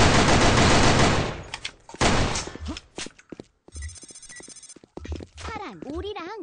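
Rapid gunfire in the Sudden Attack online shooter, a dense burst of shots at the start followed by scattered shorter volleys, mixed with game effects and sweeping tones.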